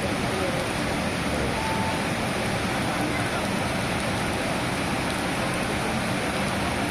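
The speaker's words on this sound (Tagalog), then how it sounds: "umuulan pa, lalong gumanda" Steady hiss of rain falling, constant and moderately loud, with no clear speech.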